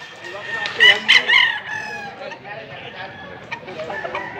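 A yellow-legged gamecock crows up close in a loud, wavering burst. Softer clucks and background noise from a Cebu farm follow.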